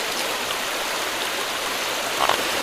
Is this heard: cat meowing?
no